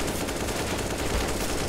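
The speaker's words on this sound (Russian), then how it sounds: "Хорошая стрельба у Бади. Все четко по назначению" Gunfire in a Counter-Strike match on the Overpass map during a European league game, dense rapid shots crackling steadily throughout, loud and continuous with no talk over it.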